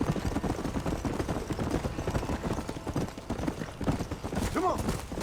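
Horse hooves clip-clopping at a steady riding pace in the Red Dead Redemption video game, a continuous rhythmic beat with a brief vocal sound near the end.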